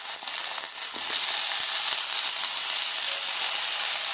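Cumin seeds spluttering and sizzling in hot oil, a dense, steady hiss with fine crackling pops, loud and close throughout with no talk.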